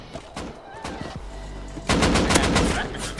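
Gunfire in the Rust video game: a few sharp shots, then a sudden loud, sustained burst of rapid automatic fire close by.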